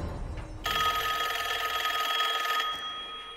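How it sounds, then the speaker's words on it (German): An electronic telephone bell in the video game Call of Duty: Black Ops 6 rings in one sustained, buzzing trill for about two seconds, loud and close, then stops. "Telefon klingelt."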